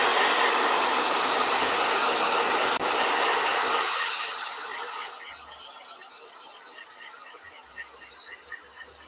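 A blow dryer roars loudly over an ink painting, then the airflow fades out midway, leaving faint scattered tapping and handling noises in a quiet room.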